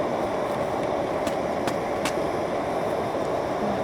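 A backpacking camp stove at Evolution Lake in Darwin Canyon heats water for hot chocolate and cider, giving a constant, close, hissing burner roar with a few faint clicks over it.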